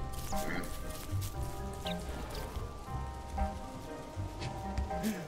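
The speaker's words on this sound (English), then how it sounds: "And now it's raining." Rain falls in the video game Don't Starve, a soft, continuous patter with faint scattered drops, quiet throughout while a person talks over it.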